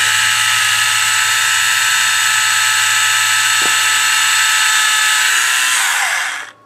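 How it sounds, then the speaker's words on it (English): Small Tamiya hand drill boring a pilot hole in a model kit part, a steady high-pitched motor whine running continuously at close range before cutting off abruptly at the end. "Then get your little drill, your handy little Tamiya drill, or just your pin vise."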